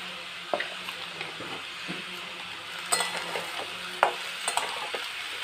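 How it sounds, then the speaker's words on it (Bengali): Potatoes fry in mustard oil in a wok with a soft, steady sizzle, punctuated by a few sharp clinks and scrapes of stirring. "দিয়ে আলুগুলো আমি ভালো করে ভেজে নেব।"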